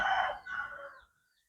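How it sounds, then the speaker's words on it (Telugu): A single rooster crow rings out close and clear, a strong opening call followed by a drawn-out tail that fades within about a second, with no talk over it. "ఇదన్నమాట పుంజు"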